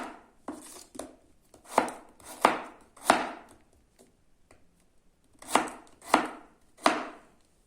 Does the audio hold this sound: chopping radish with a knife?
yes